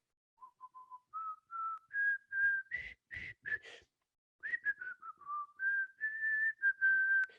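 A person whistles the tune Dixie alone, a clear, close, steady melody of sustained and stepping notes broken by a short pause midway.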